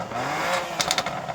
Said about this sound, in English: loads of pops and bangs on this exhaust.